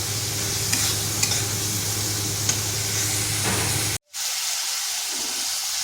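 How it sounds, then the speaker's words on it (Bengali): Spice paste (masala) being fried and stirred in a wok for an okra and potato dish gives a steady close sizzle with scraping stirs and occasional taps, cut by a brief silence near the end before the sizzling resumes. "মশলাটা একটু কষে নিচ্ছি।"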